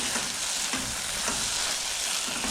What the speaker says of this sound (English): Give it a nice stir, and then again cover it so that it will turn to swell.